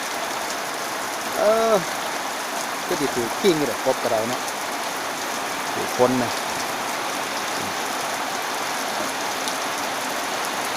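Morning rain from a passing storm falls steadily in a dense, even hiss that runs unbroken throughout, while someone talks over it in short bursts.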